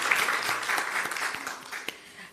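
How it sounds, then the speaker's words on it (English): Applause at a national health research conference award announcement, a moderate crowd clapping with a few sharper individual claps standing out, tapering off toward the end. "So let us give another round of applause."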